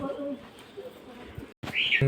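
Low, soft cooing of pigeons in a loft with eggs and chicks, close by and repeating gently, with a brief higher chirp near the end.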